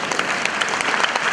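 A crowd applauds in a brief burst of dense, close clapping with a few sharper individual claps standing out.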